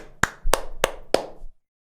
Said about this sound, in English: clap it up for Sammy, everybody.